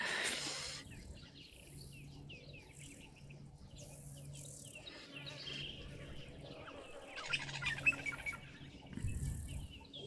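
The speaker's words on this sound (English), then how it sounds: "I can hear those buffalo weavers calling now." Scattered buffalo weaver chirps and calls in the distance, some busier bursts of chatter, over a quiet outdoor background with insect-like buzzing at a waterhole.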